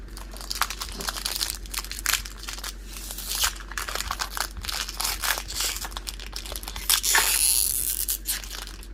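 Plastic wrapping on a Tomb Raider board game pack crinkles and stretches as it is pulled at by hand, close and continuous with rustling bursts and louder tearing-like crackles toward the end.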